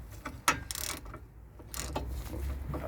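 A ratchet tightens 17 mm brake carrier bolts during a front brake overhaul, with close, quiet clicking bursts and brief pauses between strokes.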